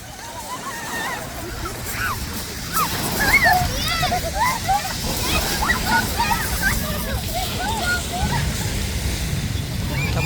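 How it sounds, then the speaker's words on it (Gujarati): Water sloshes and splashes continuously as people splash each other at Brighton beach, with waves in the background and many voices, including children, chattering throughout. "તો એકબીજા એકબીજા પાણી ઉડાડે શું"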